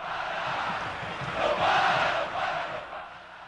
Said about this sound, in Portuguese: Um grito que surgiu no momento de maior dificuldade da história do time.